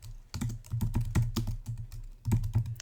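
Fingers type on a computer keyboard in quick uneven bursts of crisp, close clicks with brief pauses between runs.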